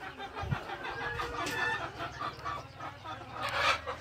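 Chickens cluck and squawk in a shed, a close, busy flock calling continuously with overlapping calls and a few sharper cries.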